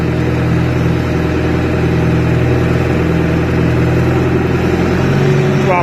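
An engine running steadily at raised throttle, pulling a winch to topple a tree, a loud, constant droning hum with no break.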